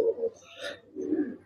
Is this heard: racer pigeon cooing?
yes